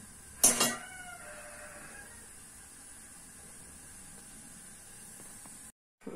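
Clean glass jars and dishes are handled in a kitchen while eggplant is being preserved for winter, one brief clatter of glass followed by a steady low hiss, close and fairly quiet.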